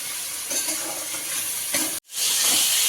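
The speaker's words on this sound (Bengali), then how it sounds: "এবার এটাকে একটু ভালো ভাজা করে নেওয়া হবে" Spices sizzling and frying in a pot for temple khichuri, a steady close hiss that cuts out briefly near the end and then returns louder.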